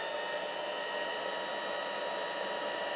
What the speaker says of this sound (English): So I just get out my heat tool. I'm just going to set it on low and dry these pieces.